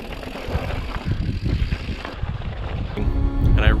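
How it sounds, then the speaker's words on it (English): Strong gusty wind buffets the microphone outdoors on a landscape where people ride bikes, a steady roaring rumble that swells and builds toward the end. "it is incredibly windy"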